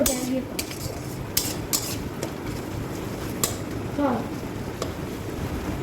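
A spoon stirs spices in a pan over a low to medium flame, making soft scraping sounds and scattered sharp clinks against the metal. A voice is faintly present underneath.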